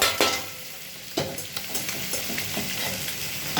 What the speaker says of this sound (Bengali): এখানে আলু, পেঁয়াজ, টমেটো একসঙ্গে ছেড়ে দিলাম, ভাজা ভাজা করে নেব